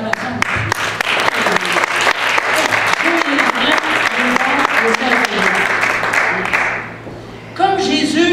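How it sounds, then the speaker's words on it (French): A congregation at a religious testimony gathering applauds with loud, close clapping and voices mixed in, then the clapping drops away briefly before a speaking voice returns over it. "Est-ce qu'on ne lui donne pas une bonne acclamation?"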